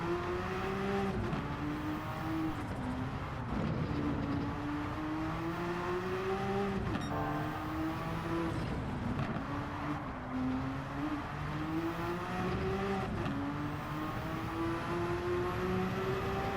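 A Porsche 962C race car engine in Gran Turismo 7 at the Nürburgring whines continuously, repeatedly rising in pitch through the gears and dropping at each shift, steady and mid-level, no talking.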